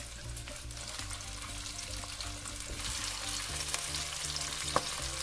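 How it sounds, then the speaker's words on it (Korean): Onions stir-fry in cooking oil in a preheated pan over medium heat, giving a loud, even sizzle with repeated scraping stirs and a sharp clack near the end, close up and with no voices. "예열된 팬에 식용유 3큰술을 두르고 양파를 넣고 중간불에서 볶아줍니다."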